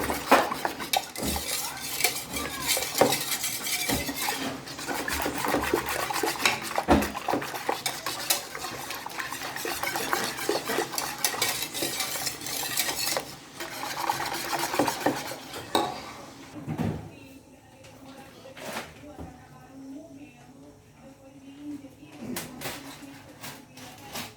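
A spoon scrapes and clinks around a pot as dissolved cake batter mixture is stirred, busy rhythmic stirring that fills most of the stretch before easing into quieter, sparser scrapes near the end.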